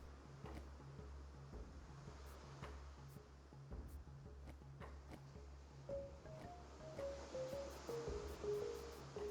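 Ocean waves wash steadily around a sailing boat on the high seas in the video game Carto, a soft continuous surf with low rumble, joined later by faint melodic game music tones.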